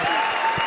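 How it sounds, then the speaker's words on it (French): Gala audience applause, dense steady clapping from a crowd filling a short burst, with no voices over it. "Sous vos applaudissements"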